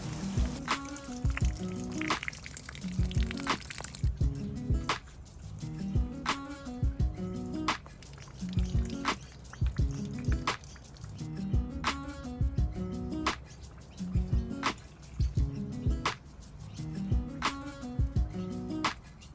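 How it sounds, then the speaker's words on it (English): A greenhouse sprinkler system spraying water, a continuous soft hiss of spray with irregular patters and drips running steadily throughout, fairly faint and without talk. "So that's the sprinkler system."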